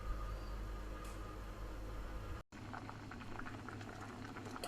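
Banana heart simmers in a pot of water, giving a steady, close bubbling boil that drops out for a brief moment near the middle and then resumes with slightly crisper bubbling.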